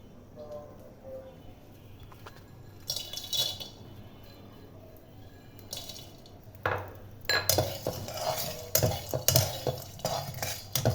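Pumpkin lentil dumplings (kumro bori) dry-fry in a pan without oil, heard as intermittent scraping and clinking of a utensil against the pan, sparse at first and then busier and louder in the second half; faint voice-like sounds are present.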